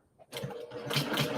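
A sewing machine runs in a short quick burst as it stitches a small mini quilt, starting abruptly after a brief near-silent moment and holding a steady mechanical whir close by.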